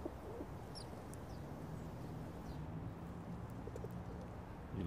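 Pigeons or doves coo softly at a park bench where they are being fed, a low steady murmur of calls over outdoor ambience with a few faint higher chirps.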